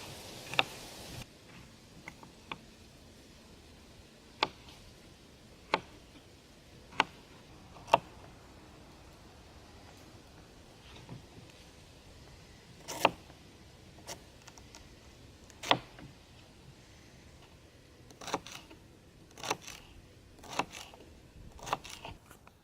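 A knife chopping garlic on a board during homemade chicken noodle soup cooking, heard as scattered sharp, quiet taps, single at first and later in quicker clusters, over a faint, quiet background.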